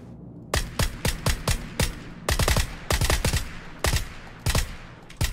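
Rapid bursts of gunfire in PUBG, a VSS among the weapons, cracking out in quick clusters of sharp shots with short pauses between volleys, loud and close over a low background.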